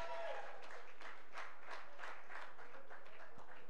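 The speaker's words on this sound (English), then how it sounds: "Oh, please, round of applause." An audience applauds at a send-off ceremony and alumni launch, a steady patter of many hands clapping close by for several seconds without a break.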